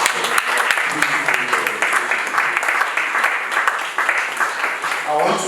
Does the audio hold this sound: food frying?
no